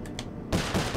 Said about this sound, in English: I need to shoot all those locks at the same time.